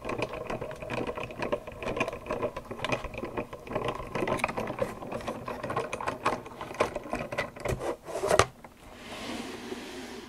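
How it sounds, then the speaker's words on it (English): A Spellbinders Artisan Explorer die cutting machine is cranked by hand, giving a close, steady run of ratcheting gear clicks and rubbing that ends with a louder clunk before quieting. "I like the Artisan Explorer because it is small, which makes it easy to cut these really small dies."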